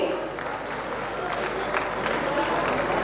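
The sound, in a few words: crowd applause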